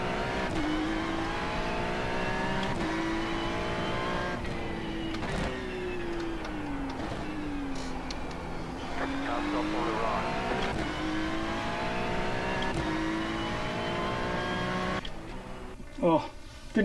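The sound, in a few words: race car engine in iRacing video game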